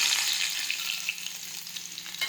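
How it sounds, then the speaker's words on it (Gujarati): Mustard seeds and cumin crackle and sizzle in hot oil for a Gujarati kantola curry, a steady close hiss with small pops throughout and no voices. "હવે આપણે તેમાં રાઈ અને જીરું નાખી દઈશું."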